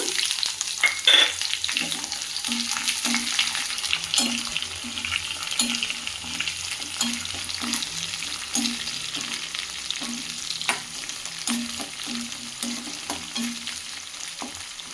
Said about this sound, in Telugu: ఇప్పుడు నేను ఆనియన్ వేస్తున్నాను పొడుగు ఆనియన్ అండి పొడుగ్గా కట్ చేసుకున్న ఆనియన్